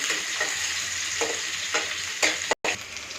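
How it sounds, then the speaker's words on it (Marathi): Chopped onion frying with cumin seeds in a pan for vegetable rice, a steady close hiss of sizzling oil with soft stirring scrapes and a brief cut near the end, no voices. "जिरा टाकला आहे कांदा टाकला आहे चांगलं भाजून घ्यायचं"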